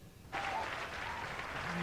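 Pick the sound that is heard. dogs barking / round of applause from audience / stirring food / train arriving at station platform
round of applause from audience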